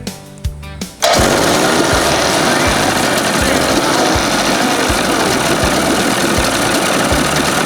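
An old 1981 20 HP Evinrude outboard motor starts after a few sputtering pulls and runs loudly and steadily, with a regular low thumping rhythm under its rough roar.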